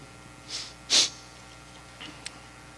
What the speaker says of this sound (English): Sniffing in the microphone.